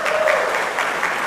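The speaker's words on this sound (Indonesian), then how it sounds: "Tepuk tangan dulu." A church congregation claps during a sermon, a short, fairly loud burst of crowd applause with no talk over it.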